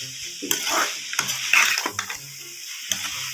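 Spices and macaroni sautéing on a high gas flame in a pressure cooker, with a steady sizzle under repeated scraping and stirring strokes and clinks of a spoon against the metal pot.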